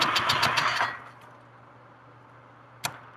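An engine cranking in a garage, a rapid rhythmic churning for about a second that stops, followed by quiet and one brief click, no speech.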